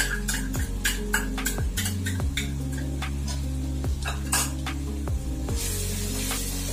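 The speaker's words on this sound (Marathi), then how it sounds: "हे पण चांगलं तेल सुटेपर्यंत आपण फ्राय करून घ्यायचं" Mint chutney frying in a pan while a spoon stirs and scrapes it, giving repeated metallic scraping strokes over a steady sizzling hiss, close and fairly loud throughout.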